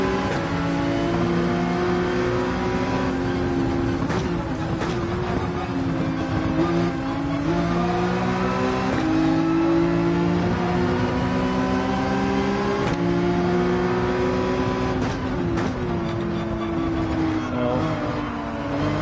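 Race car in Gran Turismo 7 under partial then full throttle, its engine droning loud and steady throughout with repeated rising pitch sweeps as it climbs through the revs and shifts gears, no voices.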